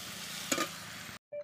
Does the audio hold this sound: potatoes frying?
yes